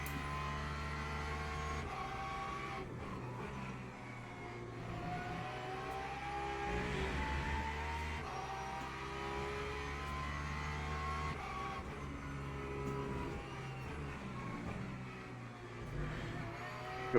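A Porsche GT3 race car in the Le Mans Ultimate sim racing game, running in a packed GT3 field at Imola, gives a continuous loud engine drone whose revs rise and fall through gear changes, with no talk over it.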